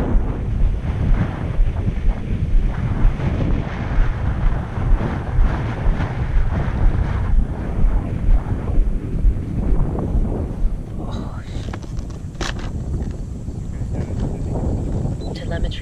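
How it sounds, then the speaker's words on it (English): Strong wind buffeting the microphone at a model aircraft flying field, a loud continuous roar with low gusty thumps throughout. "It's getting too windy."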